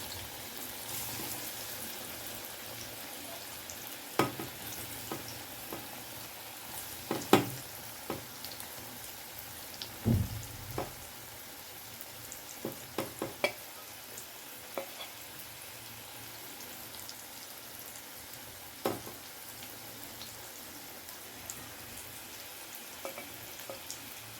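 Bitter gourd (karela) pieces frying crisp in hot oil over a fast gas flame: a steady, moderate sizzle runs throughout, broken by scattered sharp pops and a louder burst near the middle, with no talking.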